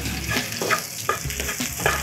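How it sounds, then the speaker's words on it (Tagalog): Garlic and onion sautéing in a hot pan with a steady, close sizzle, broken by regular scraping stirs about every half second. "simulan na natin ang paggigisa"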